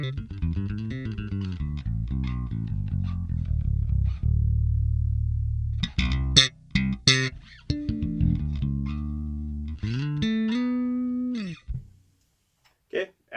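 A bass guitar played through a Fender Rumble 40 amp with flat EQ plays a sequence of clear, sustained notes and short slides with gaps between phrases, a spoken voice surfacing briefly.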